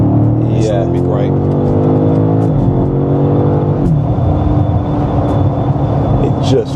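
A brand-new BMW M5 is floored hard, its engine rising through rising harmonic sweeps before the pitch drops at a gear change and the car pulls again, loud and close from inside the cabin.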